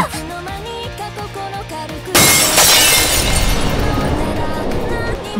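Ryukyu glass shatters suddenly and loudly after a stretch of quieter sound, the sharp crash followed by a bright, sustained spray of breaking fragments that fades slowly.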